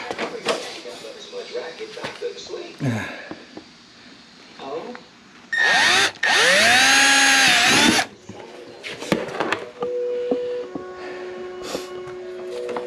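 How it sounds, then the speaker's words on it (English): Power drill boring a hole during mower chute and light replacement work, a loud high whine lasting about two seconds amid shorter tool whirs, clanks and someone talking. "Got my hole drilled."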